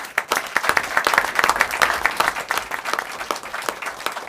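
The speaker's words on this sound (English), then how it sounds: "please give everybody a big round of applause" An audience at a board of education meeting gives a loud, dense round of applause, individual claps crisp and close throughout, no talking over it.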